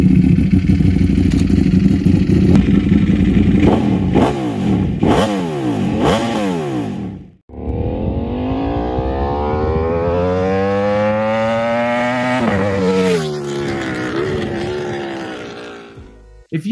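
A V4 motorcycle engine with a performance exhaust revs hard several times with a throaty, growling exhaust, drops out briefly, then climbs through a long loud acceleration.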